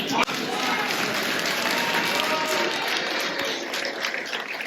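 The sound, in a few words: crowd applause at park opening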